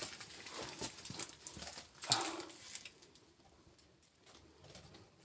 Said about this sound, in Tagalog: so maraming ibon dito.